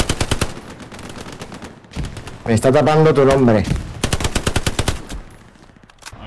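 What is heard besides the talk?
gunfire in Hell Let Loose video game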